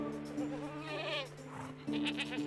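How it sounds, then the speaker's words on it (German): A billy goat penned in the medieval village-building game Medieval Dynasty gives two loud, close, wavering bleats separated by a brief pause. "Ziegenbock."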